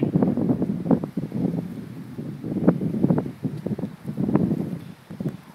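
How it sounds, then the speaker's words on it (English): Wind gusts buffet the microphone outdoors in uneven rumbling bursts, loud and close, with rustling and no talking. "So windy, isn't it?"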